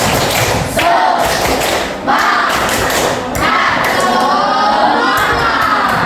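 Schoolchildren in a classroom perform the 'tepuk semangat' spirit clap, a loud group burst of rhythmic claps and thuds mixed with excited shouting and cheering that pauses briefly twice before resuming.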